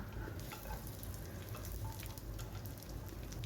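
Whole garam masala of cumin seeds, bay leaf, cardamom, cloves, a cinnamon stick and a dried red chilli sizzles in hot oil in a pan, a dense, continuous crackling fry heard close up.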